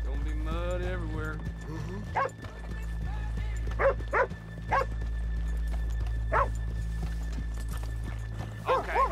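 Horses' hooves clip-clop on a muddy town street in the video game Red Dead Redemption 2, a steady rhythmic plodding under constant background hum while someone talks over it, with a brief whinny near the start.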